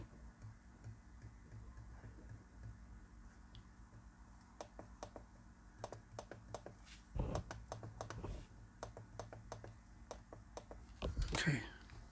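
Sharp clicks from the touchpad button of an HP Ryzen laptop, model 17-CP2003na, being pressed during a repair, repeated irregularly and close up over a faint background hum, with a few louder thumps and rustles near the end.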